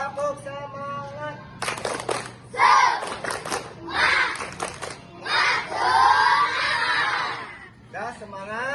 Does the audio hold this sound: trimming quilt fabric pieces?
no